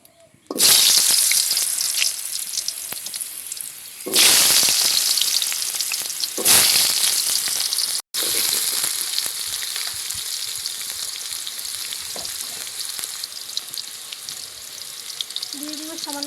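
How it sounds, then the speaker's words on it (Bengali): Potatoes frying in hot oil in a pan, a loud close crackling sizzle that flares up sharply several times as pieces go in, then settles into a steady, dense hiss. "এবার আলুগুলো একটু ভেজে নেব।"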